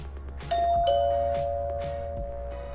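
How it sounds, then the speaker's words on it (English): A newly installed two-tone doorbell chime sounds once, a bright ding followed by a lower dong that rings out and slowly fades. "As you can see, the doorbell works."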